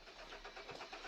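A 2011 Hyundai Sonata engine cranks without starting, a fast rhythmic starter churn that stays even and never catches, heard alone at moderate volume.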